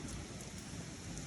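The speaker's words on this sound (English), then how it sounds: "Still a little bit of rain." Steady rain falls during a severe July thunderstorm with high winds, a soft, even hiss of drops on surfaces heard from a distance with no voices.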